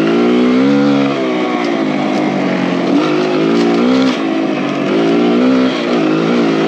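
A Kawasaki KLX140RF dirt bike is ridden along a trail through tight bends and a small river section. Its small engine revs loud and close, rising and falling steadily with throttle changes.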